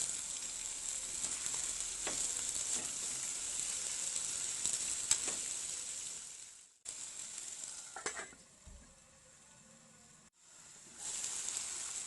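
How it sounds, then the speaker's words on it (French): Food frying over medium heat in vegetable oil in a pan, a steady close sizzle with bright hiss broken by a short pause, a few light stirring clicks and a softer stretch before the sizzle swells again. "J'ajoute de l'huile végétale, je les laisse cuire pendant environ 10 minutes sur feu moyen"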